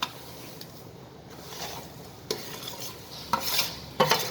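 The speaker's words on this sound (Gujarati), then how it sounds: "આપણે જે રવો શેક્યો છે એ હવે આપણે આમાં નાખી દઈશું" Roasted semolina goes into a pan with the gas switched off and is stirred to make coconut laddoos. Soft, faint sizzling runs under occasional scrapes and clinks of a spoon against the pan.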